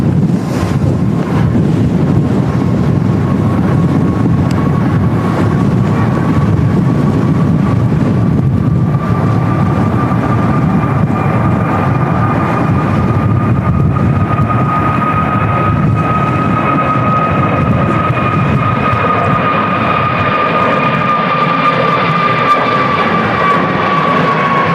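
An airliner lands at Manchester Airport in storm crosswinds, its engines whining steadily as the aircraft passes. Strong wind buffets the microphone with a constant roar throughout the landing.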